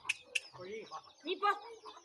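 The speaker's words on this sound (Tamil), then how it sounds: "புடி புடி கோழி புடி" Chickens cluck and squawk as they are chased, with sharp clucks and short cackles in quick, uneven bursts, close by amid people's talk.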